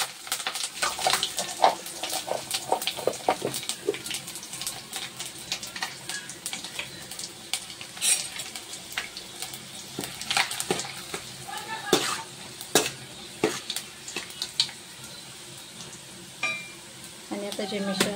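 Cumin seeds and curry leaves sizzling in hot oil for a tempering, a steady crackling fry with scattered sharp pops and stirring clatter throughout, fairly close and moderately quiet.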